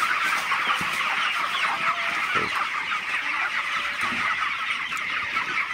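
Broiler chickens on a farm on a cold, foggy morning make a steady chorus of clucks and chirps. The flock sounds continuous and moderately close, with a faint engine-like rumble underneath and no talking.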